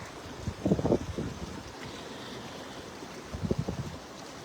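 Shallow water splashes and swishes in two short bursts as a person wades through it, set against a steady wash of flowing water and outdoor noise.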